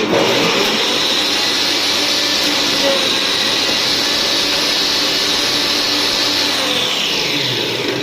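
A homemade crusher built from an angle grinder chops material inside a closed container, a loud, steady, high-pitched motor whine with rough grinding roar that holds constant from start to finish.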